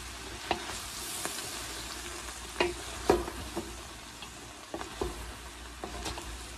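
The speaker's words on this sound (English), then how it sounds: "So I'm just going to add my bread cubes. And we're going to stir that up." Italian sausage dressing with bread cubes being stirred in a pan on a stovetop, with a low steady sizzle and soft scraping stir strokes recurring every second or so, close up and without talk.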